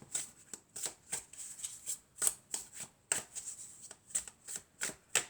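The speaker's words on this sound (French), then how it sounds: "on va prendre quelques cartes de mon oracle et on va voir ce que ça nous dit." Oracle cards are shuffled by hand in quick, rhythmic riffles. Each crisp papery burst is close and fairly soft, repeating about twice a second with short pauses between, and no one speaks.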